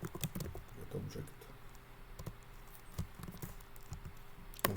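Clicky keystrokes on a computer keyboard come in irregular bursts, a few quick taps, then pauses, close and fairly soft, with no talking.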